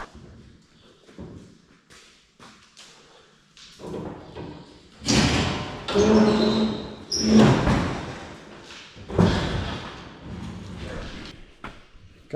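Metal thuds, scrapes and bangs ring out as a gas tank protector is forced into place in a demolition derby car, with irregular loud clanks rising in the second half and a little talk.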